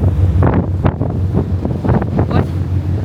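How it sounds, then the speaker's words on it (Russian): Wind gusts and Atlantic Ocean waves heard at sea aboard a sailing boat during an ocean crossing, a loud, steady roar of wind buffeting close by with surging wash rising and falling beneath it. "Знакомьтесь, какой океан. Атлантика."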